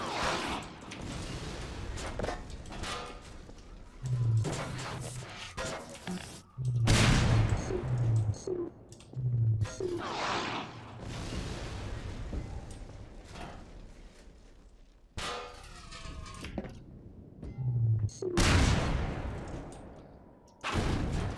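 A mounted gun shelling a village in Half-Life 2: Lost Coast fires loud booming blasts at irregular intervals, with rumbling impacts, mechanical clanks and quieter gaps between the heavy shots.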